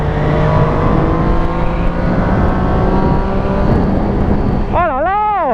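An MV Agusta Brutale 675 three-cylinder motorcycle engine hums steadily with layered harmonic tones, then revs briefly with rising and falling pitch sweeps near the end, fairly loud and close.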